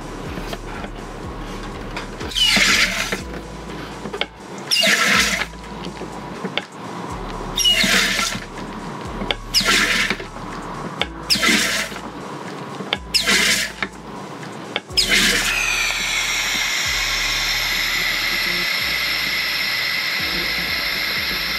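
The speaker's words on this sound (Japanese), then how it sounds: "ガスが漏れる音がしましたので、" A Drinkmate Magnum Grand carbonation machine works on flat cola, giving a series of sharp, loud hissing bursts of gas at a steady rhythm. These end in a sustained, close hiss as the gas is released, with no talking.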